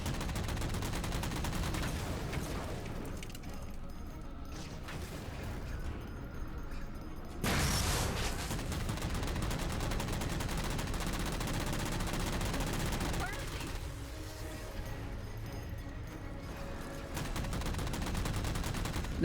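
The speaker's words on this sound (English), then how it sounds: "I'm just using and abusing the fact that the Mantis' machine gun is on the right-hand side and shooting around the corner" In Halo 4, a Mantis machine gun fires in long rapid bursts, a dense rattle of gunfire with occasional booms, under a voice speaking at times.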